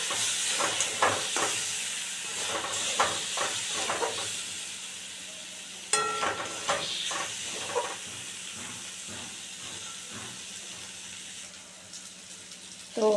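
Potato, paneer and whole poppy seed masala frying in a pan gives a steady sizzling hiss, broken by scattered crackles and a few sharper clicks and scrapes.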